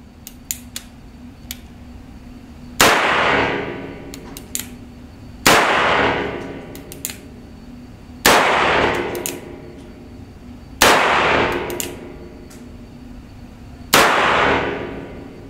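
A Colt Single Action Army revolver in .45 LC fires five loud, evenly spaced shots at steel targets. Each crack is followed by a bright metallic clang that rings out and decays before the next shot.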